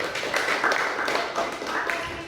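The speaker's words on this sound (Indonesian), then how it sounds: "tepuk tangan untuk kelompok pertama" Classroom applause for the first student group, a steady wash of many hands clapping together at moderate loudness, fairly close, with no distinct single claps standing out.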